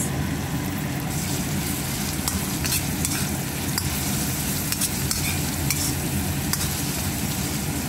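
Tomatoes and onion sauté in a pan, a dense, even sizzle and bubbling with faint stirring clicks over a low steady rumble, close up and without speech.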